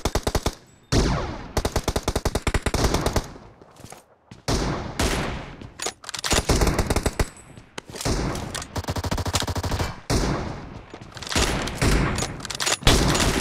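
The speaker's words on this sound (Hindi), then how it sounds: "अरे उनके पास ऑटो गन है यार" Automatic gunfire in a team shooter video game: long, loud bursts of rapid shots, broken by short pauses and a few single shots, with one brief near-silent gap, running throughout.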